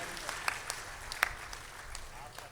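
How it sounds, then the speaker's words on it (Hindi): An audience at a Hindi spiritual discourse claps for one another, a moderate scattered applause of many hands heard from a distance, fairly faint and steady with a few sharper individual claps standing out. "ताली बजाइए एक दूसरे के लिए"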